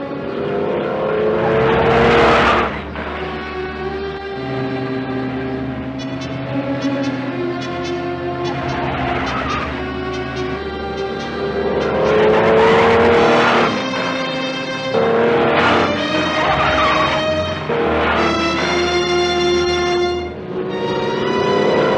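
A 1950s car accelerates hard on a speed test drive, its engine revving up through gears in repeated rising whines with loud, continuous motor roar and road noise throughout.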